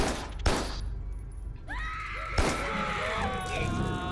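Gunfire in the video game Carrion, two sharp loud shots about two seconds apart, mixed with creature screeches and game sound effects.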